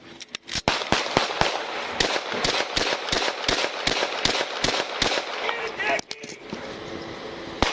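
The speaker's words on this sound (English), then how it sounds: "Steady, well, shots fired." Gunshots during a police confrontation with an armed suspect: a long barrage of sharp, loud cracks fired in rapid, uneven succession, with a few brief gaps and voices faintly underneath.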